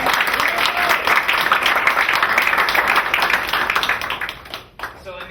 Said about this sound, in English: Can we give Chris a round of applause for writing our